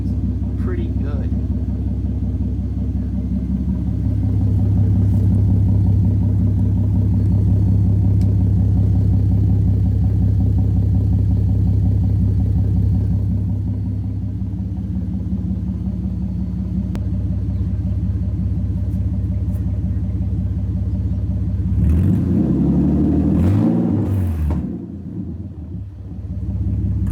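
An Infiniti Q50's engine runs with an exhaust leak, a loud, steady low rumble that holds for most of the stretch, with a rougher, revving burst near the end.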